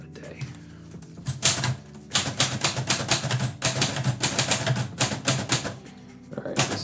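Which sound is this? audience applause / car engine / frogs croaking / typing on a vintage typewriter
typing on a vintage typewriter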